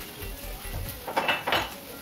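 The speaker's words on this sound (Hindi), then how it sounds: "जो बर्तन वगैरह रहेगा मैं उसे भी इस तरह से उठा उठा के उसकी जगह पर लगा देती हूँ" Kitchen utensils and pots being picked up and put away during home cooking, a few soft clinks and clatters, with two louder knocks near the end over a quiet room.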